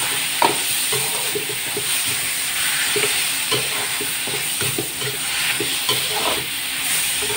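Quarter kilo of meat for Bicol pancit bato pan-frying in a hot pan, a steady loud sizzle with stirring scrapes throughout.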